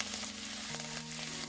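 Garlic paste hitting a hot pan of vegetables sauteed in olive oil, a continuous close frying sizzle with a faint hum and a few soft stirring clicks, no talk.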